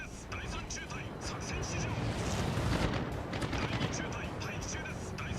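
Anti-aircraft fire from the World of Warships game, a thick rumbling wash of rapid distant bursts and booms swelling in the middle, with sharp cracks scattered on top.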